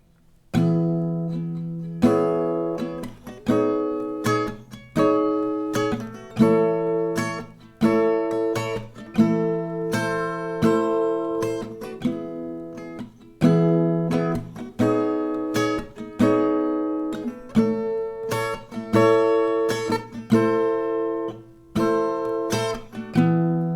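An acoustic guitar strums a sequence of chords, each struck repeatedly with a steady rhythm, ringing clearly with no voices.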